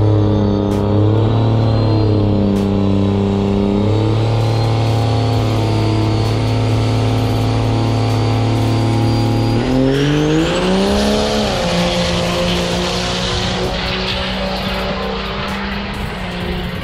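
Loud, continuous engine roar of racing trucks at a Texas diesel event, revving and shifting pitch, with a sharp rising whine as one accelerates past.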